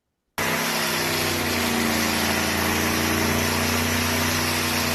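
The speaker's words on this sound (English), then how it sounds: "we got about a little small video of John Force's car firing up" John Force's nitro drag racing car fires up with a sudden loud start, then holds a steady, harsh, deep rumbling idle with dense buzzy harmonics and vibration throughout, close and unbroken by voices.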